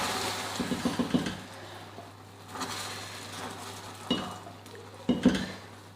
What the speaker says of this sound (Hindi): सारा कैरेमल जो है ये लकड़ी के चम्मच से जो है वो हमने ऐड करना है